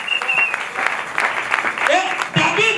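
A church congregation at a Sunday evangelical service applauds and cheers for God, a dense crowd of clapping mixed with excited shouts and voices throughout.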